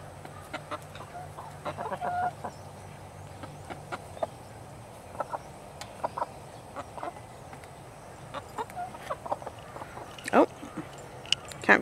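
A flock of chickens kept in winter clucks and murmurs softly, with scattered short calls and a few sharper squawks late in the clip, while someone talks over them.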